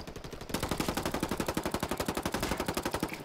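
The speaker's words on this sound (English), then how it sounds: "Taking fire. That's LJ sniping again" Rapid sniper gunfire in a multiplayer shooter on a mountain village map, a steady run of evenly spaced sharp cracks, loud and close, keeping an unbroken rhythm with no talk over it.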